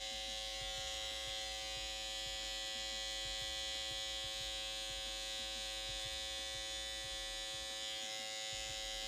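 A cordless Andis Slimline Pro Li trimmer buzzes steadily and close up while cutting along a chalked beard line, a constant high-pitched electric hum lasting the whole stretch with no talking.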